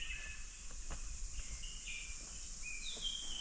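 Soft, distant birdsong drifts through the hush around the Keshavraj Vishnu temple set in coastal woodland near Dapoli, Ratnagiri: scattered faint chirps and short whistled calls over a quiet, steady background.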